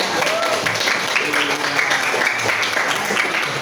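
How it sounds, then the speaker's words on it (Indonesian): Audience applause in an Indonesian classroom or lecture setting on freedom of expression, a steady dense wash of clapping that fills the whole stretch at even loudness, with faint voices mixed underneath. "Kasih tepuk tangannya"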